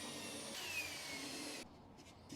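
A drill boring a hole in a boat hull gives a steady whirring grind for about a second and a half, then cuts off, leaving a quiet room tone.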